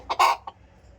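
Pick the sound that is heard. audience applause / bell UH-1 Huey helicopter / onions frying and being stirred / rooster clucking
rooster clucking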